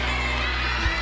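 A wrestling arena crowd roars for the Rockers, a dense steady wall of cheering and shouting from a large audience.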